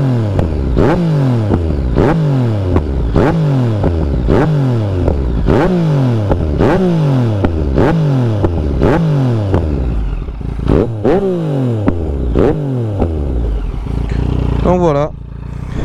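A Yamaha MT09 triple with an Akrapovic exhaust and Cordona quickshifter revs repeatedly, loud and close, each rising blip dropping back in a regular rhythm before the engine settles near the end.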